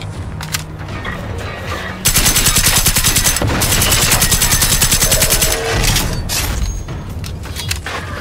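Rapid automatic gunfire in the video game Generation Zero, loud, sustained bursts of dense shots for several seconds, tapering into scattered booms and mechanical noise.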